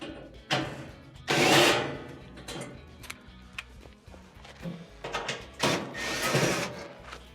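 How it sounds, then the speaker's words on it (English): Quarter-inch screws are backed out of the burner tube on a Frigidaire oven, giving a few short whirring bursts of a driver up close, with quieter ticking and handling noises between them. "we have two 1/4-inch screws holding in the burner tube, which the igniter is installed to"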